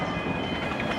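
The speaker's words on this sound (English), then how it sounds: "It's not every day your road test gets interrupted by a steam train" The steam locomotive Llewellyn rolls past on its way up to Devil's Bridge. The whole moment is a brief, loud, close, continuous rumble and rush.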